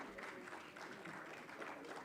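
Audience applause at the Manthan 2023 grand finale awards ceremony, a dense, steady patter of many hands clapping that holds evenly for about two seconds, heard at a distance.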